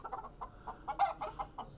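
A hen clucks in a quick run of short, clipped calls, close by, with brief pauses between bursts and no talking.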